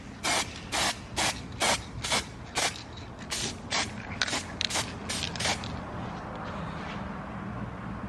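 Bursts of spray gun hiss lay a misty clear coat over a Datsun 280ZX engine bay, about a dozen short, evenly spaced passes followed by a quieter steady hiss.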